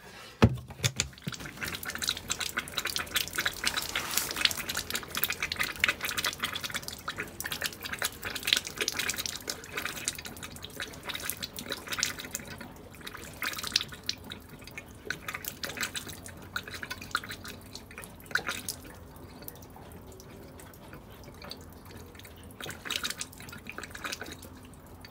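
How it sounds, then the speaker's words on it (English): Water draining out of the boiler drain tap of a touring caravan's water system, heard as quiet, continuous trickling and dripping with small splashes that gradually thin out. "that's the boiler drain. I'll just flip the yellow tap now."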